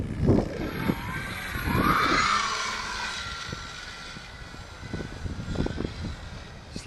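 A zero-dihedral Slow Stick RC plane buzzes overhead in gusty wind of about 16 mph, its propeller whine rising and sweeping past, while wind buffets a nearby microphone with thumps and rumbles.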